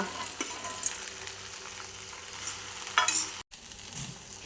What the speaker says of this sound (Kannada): ಈಗ ಫ್ರೈ ಮಾಡಿರುವ ಸೋಯಾ ಹಾಕುವ